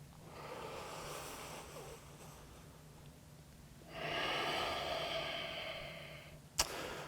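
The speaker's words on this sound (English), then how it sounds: "One more big breath here." Slow, deep breathing during a yoga side-angle stretch, a long soft inhale followed by a fuller, louder exhale, close and fairly quiet, with no speech.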